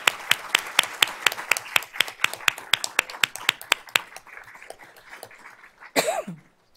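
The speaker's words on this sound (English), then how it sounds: "Let's give her a round of applause" A school board meeting audience gives scattered applause for a student winner, clapping in a sparse, regular beat of distinct claps that fades out, followed by a brief cough or throat clearing near the end.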